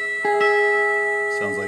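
An electric guitar bends a note up toward the root of E, imitating a pedal steel, a sustained tone that shifts smoothly in pitch, close and clear with no voice.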